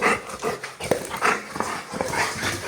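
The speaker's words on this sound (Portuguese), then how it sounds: "vou passear com os cachorros" Dogs being taken for a walk whimper, yip and pant close by in short excited bursts, one freshly groomed small female among them, with no talk over them.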